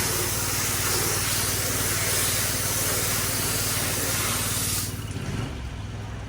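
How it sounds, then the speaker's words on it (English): A pressure washer sprays a window in a circular rinsing motion, its loud, steady hissing jet and engine drone running continuously before the spray cuts off abruptly near the end, leaving a quieter hum. "Start, release your burst pressure, go to the window, rinse in a circular motion, 2 or 3 seconds, and you're done."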